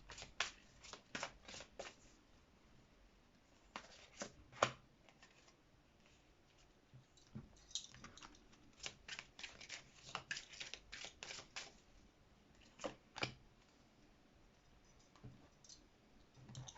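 Tarot or oracle cards shuffled for a reading, with rapid riffling and soft flicking in repeated bursts and short pauses between them, close up and quiet with no talking.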